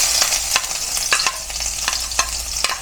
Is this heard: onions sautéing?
yes